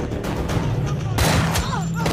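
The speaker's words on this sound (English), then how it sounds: "it's like randomly shooting at them on the street" Gunfire in a street shootout from the TV show Daredevil, with several sharp shots and bursts standing out over a busy, noisy action soundtrack.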